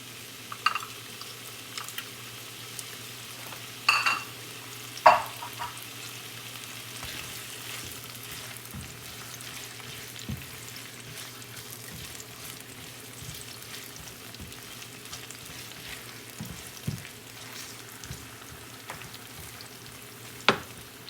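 Onion and garlic fry in a pan for cabbage and salt fish, a low, continuous sizzle running throughout with occasional louder utensil knocks and stirring scrapes near the start and scattered faint crackles afterward.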